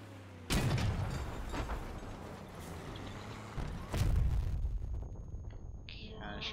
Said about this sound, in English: Cannon shots coming in.